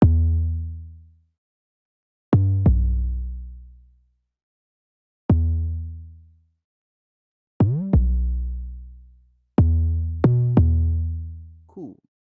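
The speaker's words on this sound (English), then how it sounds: "the 808 kick" An 808 kick drum in an FL Studio Afrobeat gospel beat: deep, booming hits with long decaying tails and a slight pitch drop, about seven strikes in an uneven pattern, loud and alone.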